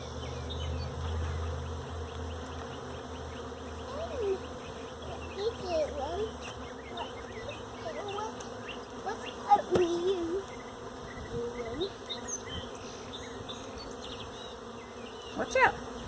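Honey bees hum and buzz around an open hive during an inspection, a steady close swarm drone with individual bees whizzing past.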